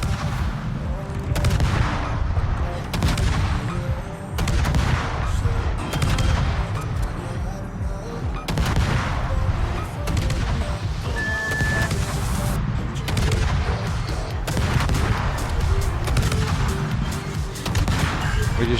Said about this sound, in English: We're just shooting into the upper superstructure with AP